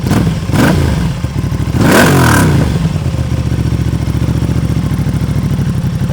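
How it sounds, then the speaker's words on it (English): Aprilia Tuono 660 with an aftermarket exhaust revving: two quick blips then a longer throaty rev settling back to a steady, fairly loud idle, up close. "Let's give it a couple revs."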